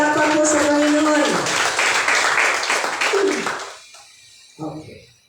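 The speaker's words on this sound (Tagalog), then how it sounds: "Sige po, palakpak po sa Panginoon." A church congregation at a Sunday worship service claps together in a dense, sustained burst of applause mixed with raised voices, which fades out after about four seconds before a brief spoken phrase.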